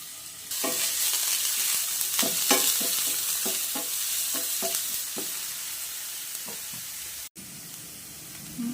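Crushed onion and garlic dropped into hot coconut oil in a pan, a sudden loud sizzle that continues steadily with repeated utensil scrapes and taps, close up, with a brief cut near the end.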